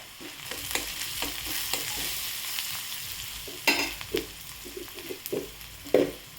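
Sautéed onion with turmeric is stirred in a pan, soft sizzling under repeated scraping strokes and spoon knocks that come in uneven bursts, fairly close.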